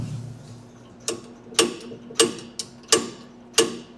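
Six sharp mechanical snaps from a snowmobile throttle cable being worked on a never-ridden Ski Whiz, spaced irregularly about half a second apart, close and crisp over a faint low hum.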